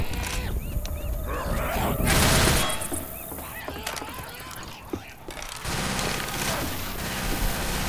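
Left 4 Dead 2 gunfire crackles in dense bursts alongside mechanical reloading clicks and in-game character voices, loud and close throughout with a brief quieter lull midway.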